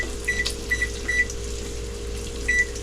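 A kitchen timer is set while shrimp and grits simmer on the stove: a series of short, clipped electronic beeps in quick pairs, then a lone beep after a pause, over a steady low kitchen hum.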